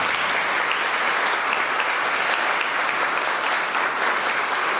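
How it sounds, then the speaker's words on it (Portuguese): A church congregation at Sunday Easter-season Mass applauding together, a dense, even roar of many hands clapping that holds at a steady, loud level throughout. "Vamos aplaudir o Senhor."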